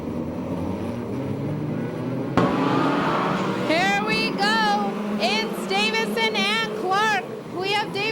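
USAC/CRA sprint cars circling a race track, a steady broad engine roar from a distance with a sharp crack partway through, under an announcer talking over a PA.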